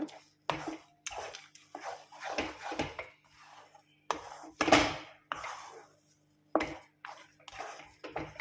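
Mango rava kesari with fried cashews and almonds being stirred in a pan, a spoon scraping and clinking against the metal in repeated short strokes, close and fairly loud with no talk.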